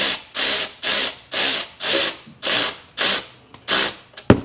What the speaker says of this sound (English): Now I'm not tightening these fully, I'm just going around and catching them